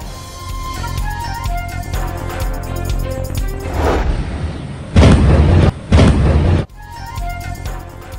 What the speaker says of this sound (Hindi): पूरा इलाका जोरदार धमाकों से गूंज उठा।